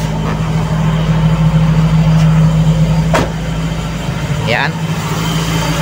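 Toyota 2E engine idling right after a cold start with auto choke holding a high idle near 1,000 rpm, a steady close drone with someone speaking over it.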